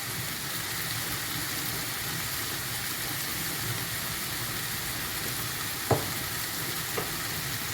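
A wooden spoon stirs a pan of tuna stuffing seasoned with paprika and salt, giving a steady low scraping and sizzling wash throughout, with two brief sharp knocks near the end.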